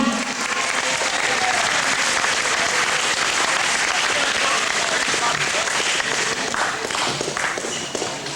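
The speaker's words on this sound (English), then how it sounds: "How about another round of applause for them?" Loud, sustained applause from a large crowd, continuous clapping that holds steady and fades slightly at the end.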